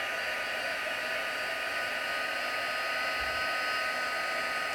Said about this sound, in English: then we take our heat tool and we're going to set it.